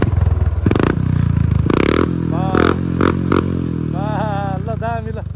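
An RM 250 dirt bike engine runs close and loud, its two-stroke note rising and falling through several quick revs over a continuous idle.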